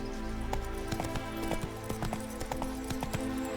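Roach, the horse in The Witcher 3, gallops with quick, rhythmic hoof clops over a low game music bed, close and steady.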